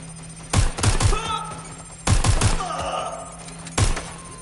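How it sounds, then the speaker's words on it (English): Gunfire in Watch Dogs: Legion: three short bursts of rapid shots, each a tight cluster of sharp cracks, spaced about a second and a half apart, loud and close over a low hum, with some voice chatter between bursts. "Shots fired!"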